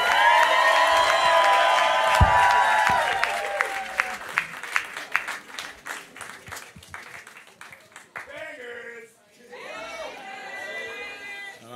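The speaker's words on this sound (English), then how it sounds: "make some noise for Banggz, y'all" A crowd at a live club show cheers and applauds loudly. The whoops and clapping taper into scattered claps, and then a voice speaks over the room.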